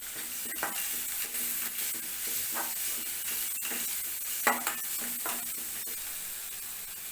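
Ginger garlic paste sizzling in a pan, with a steady frying hiss throughout and repeated light scrapes and taps of a stirring spoon, close and fairly quiet, no talk.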